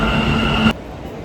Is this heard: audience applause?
no